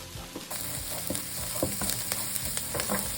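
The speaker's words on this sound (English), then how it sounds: "Add them to the pan and saute for just a minute to release all the flavor." Minced garlic sautés in a pan with a constant bright sizzle, punctuated by repeated light taps and scrapes of a utensil stirring close by.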